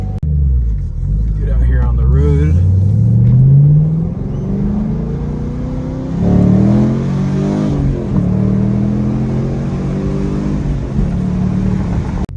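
A BMW E30 car engine hums and rises in pitch as it accelerates and shifts through gears, steady and close, with someone speaking briefly over it.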